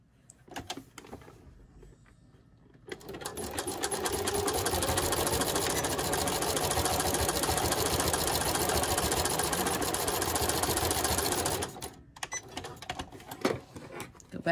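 A sewing machine stitches fabric with a loud, steady, rapid mechanical whir that runs for about eight seconds after a brief quiet start. It stops abruptly, and a few faint clicks follow.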